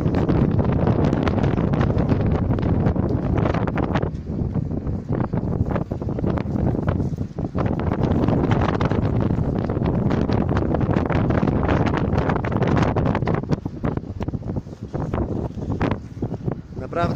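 Strong wind roars loudly and continuously across the microphone at an outdoor concrete pumping job, gusting in heavy waves with only brief dips.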